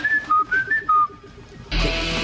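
A person whistles a short melodic tune of several rising and falling notes, clear and close, followed by a sudden burst of loud noise.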